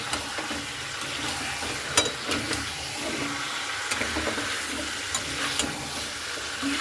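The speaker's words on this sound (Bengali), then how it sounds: "এখানে ভাজা মশলাটা দিয়ে খুব ভালো করে আবারও আমি এখানে নাড়াচাড়া করে নিচ্ছি" Fried spice paste for a chicken dish is stirred in a frying pan, giving a steady close sizzle with a few scraping clicks of the spoon against the pan and no talking.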